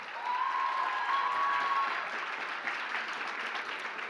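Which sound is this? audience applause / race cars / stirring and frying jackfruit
audience applause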